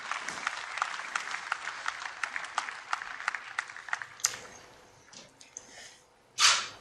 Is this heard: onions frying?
no